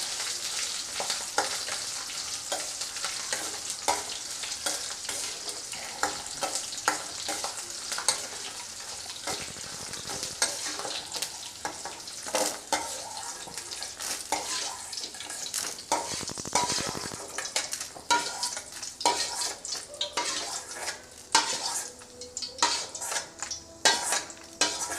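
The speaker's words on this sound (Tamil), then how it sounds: "இது கூட ஒரு 10 பல்லு பூண்டு, ஒரு சின்ன துண்டு இஞ்சி, இதையும் சேர்த்து வதக்கிக்கலாம்." Garlic cloves and a small piece of ginger sautéing in a pan, a bright continuous sizzle broken by frequent spoon scrapes and stirring clatter, fairly close and without speech.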